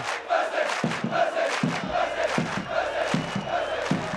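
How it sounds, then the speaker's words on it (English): A partisan schoolboy rugby crowd roars for Grey College at a Premier Interschools match, a dense chanting wall of voices surging in rhythmic, pulsing waves throughout. "if you thought that roar for the Grey team was impressive"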